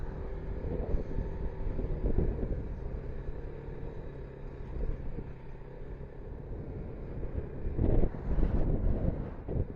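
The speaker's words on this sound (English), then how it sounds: "Holy crap, it's windy." Strong wind of about 70 km/h in southeast Manitoba buffets the microphone in a constant low roar, with gusts swelling and fading and a louder blast near the end.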